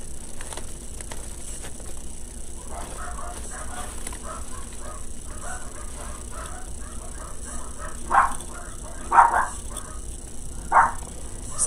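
Several dogs bark in agitated bursts indoors, aroused by someone outside, with a few louder barks near the end over steady background hum.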